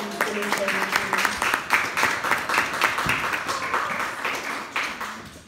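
A theatre audience claps to welcome a singer, a steady mass of hand claps that holds for several seconds, with a voice briefly audible underneath at the start.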